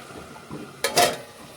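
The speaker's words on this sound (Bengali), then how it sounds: "তো দেখুন আমি আবারও কিছুক্ষণ ঢাকা দিয়ে দিচ্ছি।" A lid goes down on a pot of drumstick flower curry with one short metallic clank, then a brief rattle as it settles, over a quiet kitchen background.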